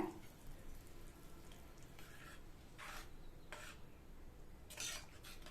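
A spoon scrapes and stirs through thick tomato curry (thakkali kulambu) in a pot after water is added, soft repeated rasping strokes at close range, fairly quiet overall.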